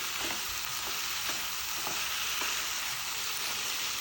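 Pumpkin curry being stirred in a pan, a steady close sizzle of frying with a few soft scraping strokes of the spoon at intervals, no voices.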